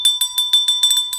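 A small bell rung by hand to celebrate completing a double in a baseball card collection, struck about eight times in quick succession, bright and close with a sharp metallic ring.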